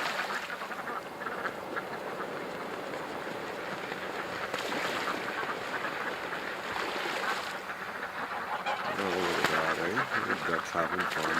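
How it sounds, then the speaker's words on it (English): Ducks quack and splash down onto a creek in a continuous, busy chorus, with rushing water and wind noise running underneath throughout. "we got ducks landing everywhere"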